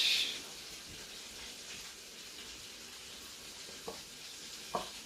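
Butterfish goes into a pot of cooking corn, carrot and okra, giving a soft, steady hiss of steam and simmering with a couple of light knocks near the end, heard alone and fairly faint.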